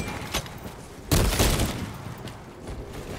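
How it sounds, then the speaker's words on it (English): A bolt gun fires in Warhammer 40K Space Marine 2 with a heavy booming burst after a single earlier crack, followed by a rumbling tail in dense battle noise. "Dude, the freaking bolt gun."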